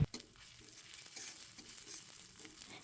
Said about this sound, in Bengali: এখন পেঁয়াজ আর রসুনটাকে কিছুক্ষণ ভেজে নিতে হবে।